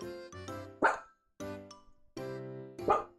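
A dog barks in short bursts indoors, several loud yaps separated by brief pauses, alone without talk.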